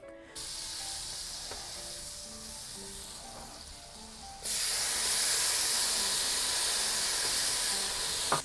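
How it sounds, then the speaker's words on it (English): Butter sizzles in a frying pan with garlic for a large batch of jambalaya, a steady hiss that jumps suddenly louder halfway through and stays strong, no voices. "now I am just getting the bottom of the pan coated in the butter"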